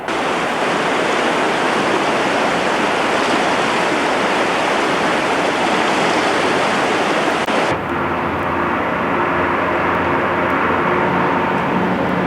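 Fast water from a river beside a hotel in Chamonix roars steadily and close; about two-thirds through it drops abruptly to a quieter, thinner flow with faint background tones.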